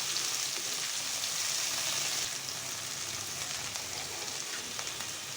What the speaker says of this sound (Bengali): পুরো লতিটা আমি ভেজে নেবো